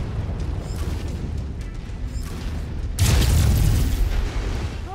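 A heavy mech weapon shot in MechWarrior 5: Mercenaries, a loud booming blast at about the three-second mark over a rumbling engine and game background.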